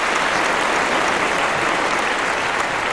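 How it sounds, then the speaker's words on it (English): An audience at a design awards ceremony claps for nominees, a dense and steady wash of applause that stays loud and continuous throughout. "A big round of applause for all the three nominees for making it to the Golden Book of Design"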